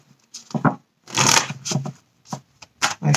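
Oracle cards being shuffled during a tarot reading: several quick riffling, sliding bursts close up, irregularly spaced over a few seconds, with no talking.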